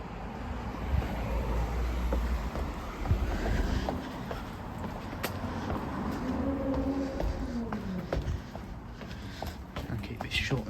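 A train runs through Alderley Edge railway station, heard from the footbridge as a steady low rumble with some wind noise on the microphone and a long whine that rises and falls, under faint talk.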